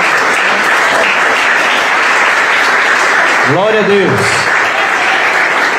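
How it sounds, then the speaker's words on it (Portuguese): A church congregation claps in sustained, dense applause throughout a communion service, with a voice briefly calling out praise over the clapping near the middle. "Pode aplaudir o Senhor."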